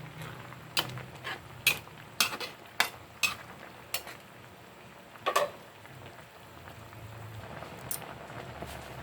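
Pot of salmon-head sinigang being stirred after eggplant goes in, with sharp scattered clinks of a utensil against the pot over a soft simmering background, fairly quiet and close.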